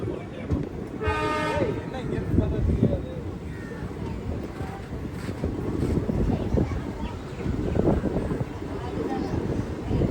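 A train rolls over the new Pamban Bridge across the sea, a steady rumbling clatter with a short horn blast near the start, while people talk over the noise.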